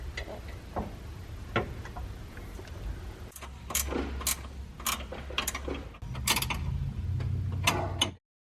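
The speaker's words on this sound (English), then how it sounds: "Now that we got our bracket installed, we're going to go ahead and mount our winch." Hand tools fastening an Anvil 4500 off-road winch onto its bracket on a 2011 Polaris RZR 800s: close, busy clicking of ratchet and metal parts, rising in bursts with a low hum beneath, stopping abruptly at the end.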